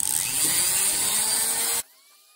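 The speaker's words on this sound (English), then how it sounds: "I got the little ball in the Dremel, a little tiny one." A Dremel rotary tool fitted with a tiny ball bit carves into wood for a power-carved scary mouth, giving a steady high whine with gritty grinding for almost two seconds before cutting off abruptly.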